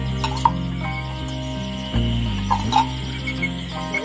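A chicken gives a few soft, scattered clucks over a steady background hum, with no talking.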